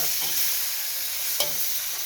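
Holy basil and bacon stir-fry in a hot pan that is catching and burning, a steady loud sizzle with a brief scrape of stirring, close up and with no talking.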